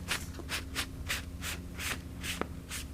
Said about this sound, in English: So I'll show you again using the paper towel.